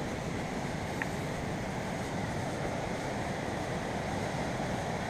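Mountain river in Altai churning over rapids and boulders, a loud, dense, unbroken roar of rushing water mixed with wind buffeting the microphone, with no talk.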